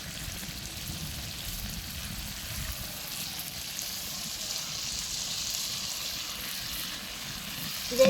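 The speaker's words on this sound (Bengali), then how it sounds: "মশলা কষাইতেছি" Spice paste frying and being stirred in a pan gives off a steady, dense sizzle that holds at an even level throughout, with no voices over it.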